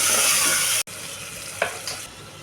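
Tomatoes with salt, turmeric and chilli powder are stirred in a pan for tomato rice, a loud close sizzle that cuts off abruptly, then quieter frying with a couple of brief scraping stirs.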